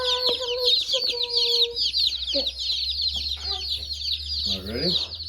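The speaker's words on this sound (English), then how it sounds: "Hello, chicken!" Newly unboxed baby chicks peep in a rapid, high chatter that runs nearly nonstop, close and fairly loud, with a few brief clucking notes and handling noises beneath.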